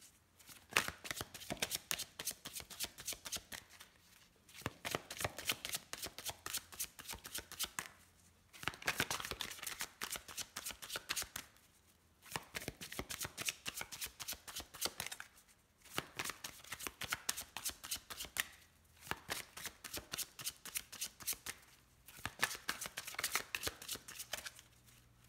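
Oracle cards being shuffled for a tarot-style reading, with dense rapid riffling in about six bursts separated by brief pauses, close and crisp with no talking.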